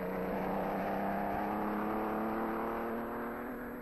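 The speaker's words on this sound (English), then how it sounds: "shows the Americans a real Grand Prix car in action" A 1930s Grand Prix racing car engine drones steadily at high revs, loud and sustained throughout with a strong, even engine tone and no speech.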